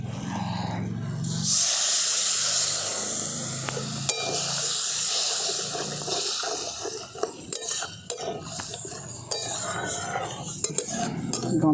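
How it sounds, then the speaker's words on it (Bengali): Water poured into a pan of frying spiced potatoes for aloo dum sets off a loud, steady sizzling hiss that settles into a bubbling simmer, with a few light clinks of a utensil against the pan. "এরপর দিয়ে দিচ্ছি জল"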